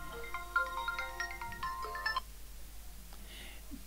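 A mobile phone rings in a lecture hall with a bright, electronic melody of stepped tones for about two seconds, then stops, leaving a quiet room.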